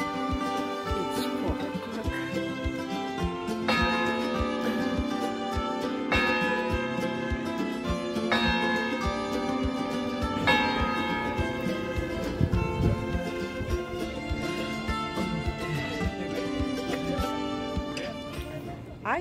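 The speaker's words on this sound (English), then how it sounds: "maybe you're lucky like me to hear the bell ringing" Bells ring repeatedly from a clock tower in Graz, resonant strikes overlapping into a sustained clang, with voices and outdoor noise underneath.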